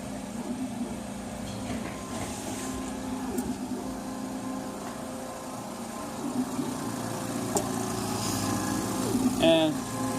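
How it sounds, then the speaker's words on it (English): A laser cutting machine runs alongside its compressor in a workshop, giving a steady low mechanical hum and drone with faint higher whines, moderately quiet and continuous. "part of the noise you're hearing is the laser itself actually going."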